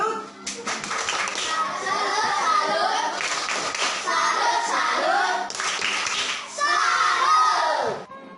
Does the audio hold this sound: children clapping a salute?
yes